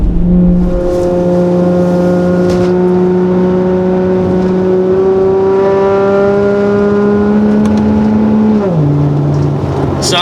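Car on Michelin Pilot Sport AS-3+ tires taking a bridge corner at speed, a loud steady engine drone heard from inside, its pitch holding level before dropping near the end as the car eases off, with wind and road roar underneath.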